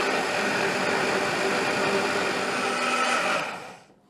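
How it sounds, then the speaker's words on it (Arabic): An electric kitchen blender mixes a sauce with a loud, steady whirring roar for over three seconds, then spins down and falls silent. "وهلا على الخلط يا غوالي. بسم الله. خرطش الخلاط تبعك وفوت فوتك."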